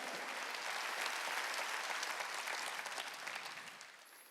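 A church congregation applauds during a Sunday worship service, steady dense clapping from many hands that holds strong for a few seconds and then gradually thins and fades.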